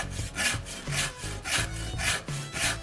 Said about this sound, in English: Now I'm going to use my microplane rasp to get it nice and comfortable.